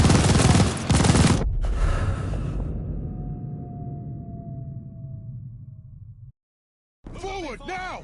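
Machine gun fire in a war video game, a loud rapid burst that cuts off into a long fading rumble, then a brief gap and a return of gunfire at the end.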